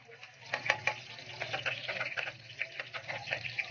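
Garlic frying in coconut oil at the start of a pork curry, a soft steady sizzle punctuated by quick scraping stirs, close and moderately quiet.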